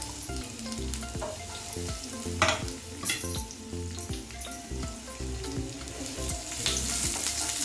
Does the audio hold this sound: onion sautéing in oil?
yes